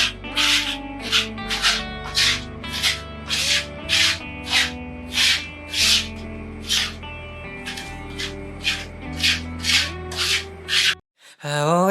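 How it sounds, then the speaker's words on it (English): A trowel spreads a concrete-finish plaster thinly across a room wall in varied directions, making a steady run of short, evenly spaced rasping strokes over background music. "Using the paint scraper or trowel, let's now apply it thinly and in different directions to create small patterns."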